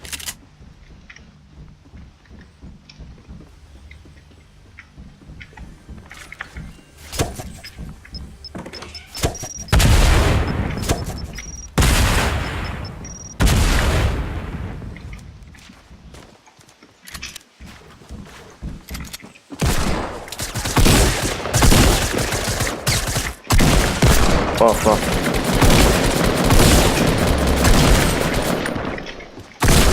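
Submachine gun fire in a shooting video game, with quiet stretches broken by loud dense bursts of rapid shots and heavy booms, growing into sustained chaotic firing; someone speaks briefly.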